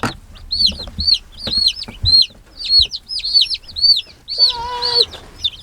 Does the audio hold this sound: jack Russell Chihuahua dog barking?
no